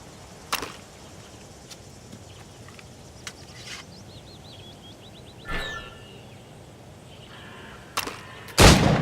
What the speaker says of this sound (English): Shoot these targets.